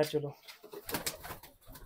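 Pigeons coo softly in a loft as they are let out, the low calls brief and mixed with someone talking in Hindi and shuffling movement nearby.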